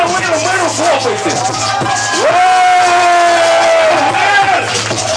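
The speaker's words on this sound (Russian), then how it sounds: "Спасибо, мэр, мэру хлопайте!" An audience cheering and whooping for the mayor at a live rap show, a loud crowd roar with shouts and rising yells over several seconds and a voice calling out from the stage.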